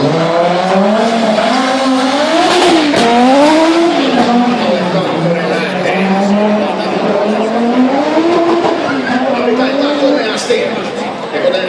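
A loud Audi Quattro S1 Group B rally car races at a Helsinki event, its engine rising and falling in repeated revving sweeps. A commentator talks over it the whole time.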